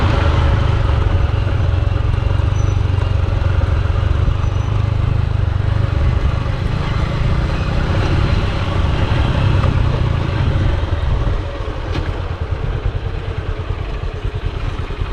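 Several motorbikes idle together beside a river crossing by bamboo raft in northern Vietnam, a continuous low rumbling chug that stays loud and steady throughout, with no talking.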